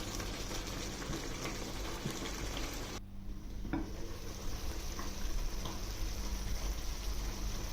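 Garden eggs simmer in a pot with a low bubbling sizzle, close and steady, with a brief clink partway through and no talk.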